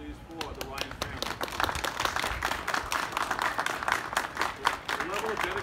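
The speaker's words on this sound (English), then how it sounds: "Can we get a round of applause, please, for the Ryan family?" Audience applause at a school's ribbon cutting for an outdoor learning space, dense and steady clapping close by for several seconds with voices audible underneath.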